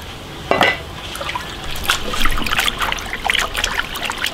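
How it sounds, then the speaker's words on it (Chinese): Sliced grass carp fish is rinsed in clean water, giving close splashing, trickling and dripping sounds in irregular bursts, with a sharp splash near the start and lighter sloshing afterward. "鱼片清洗一下捞出来，沥干水分。"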